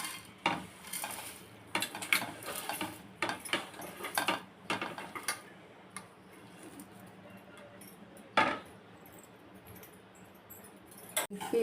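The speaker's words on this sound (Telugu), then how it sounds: "అటుకులు బాగా డ్రై రోస్ట్ చేసుకోవాలి." Flattened rice (poha) dry roasting in a pan, stirred with a spoon in a string of scraping, clinking strokes that come in clusters, quieter in the middle, with one sharper knock near the end.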